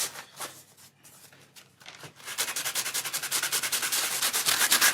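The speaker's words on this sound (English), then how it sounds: "See if we can even chuck some wax on this." Wax rubbed by hand over a Saltwash raised stencil finish: soft, scattered brushing at first, then a close, steady run of rapid back-and-forth rubbing strokes that grows louder.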